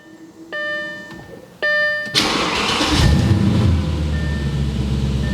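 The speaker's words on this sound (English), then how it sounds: "Now let me start this thing up so you guys can hear the exhaust." An Audi S4 B6 V8 is started after two dash chimes: the starter catches, and the engine fires into a loud, deep exhaust rumble that settles into a steady idle nearby.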